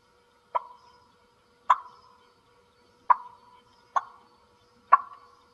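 Five single turkey clucks made on a mouth call, each a sharp, clear pop spaced about a second apart, standing alone against silence.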